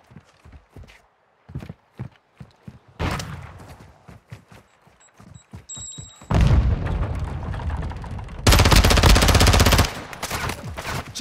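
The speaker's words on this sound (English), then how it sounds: "I'm taking enemy fire!" Automatic gunfire in Call of Duty: Modern Warfare II, with scattered single shots and footsteps early on, then loud sustained bursts of rapid fire that drop off and come back in heavy near volleys.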